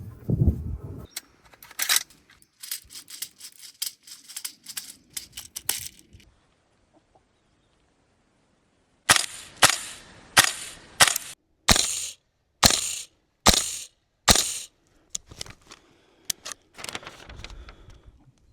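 A VFC KS-1 (L403A1) airsoft gas blowback rifle fires about nine sharp, loud, separate shots at a steady pace, with a stretch of quieter handling and clatter before them.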